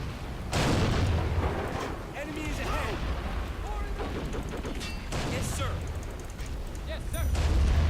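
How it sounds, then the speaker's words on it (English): Artillery guns firing in the World War II strategy game Men of War: Assault Squad 2, repeated deep booms and blasts under a man's ongoing speech, with scattered distant gunfire. "Our guns are ready to rock. They're actually firing full time now."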